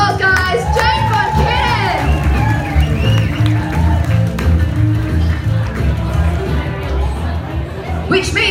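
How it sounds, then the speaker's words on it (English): Crowd cheering and whooping for a pinup pageant contestant at the Moreton Bay Rockabilly Riot in Australia, loud and lively with shouts and voices mixed through the noise. "Give her a big round of applause, guys."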